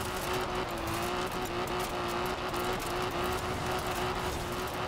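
A classic car drifts in Forza Horizon 4, with steady loud tire squeal and engine roar that hold without a break the whole time.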